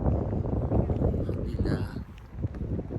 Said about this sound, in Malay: Oh, angin kuat tu.